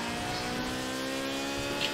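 A race car in the Forza Horizon 4 video game drives with a steady engine drone and a constant tonal hum, held at an even level throughout the short stretch.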